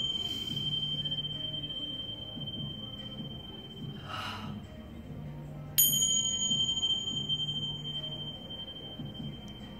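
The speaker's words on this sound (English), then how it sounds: "the Tibetan meditation bell" A Tibetan meditation bell is struck once, its clear, bright tone ringing on and slowly fading over a faint, low, pulsing hum.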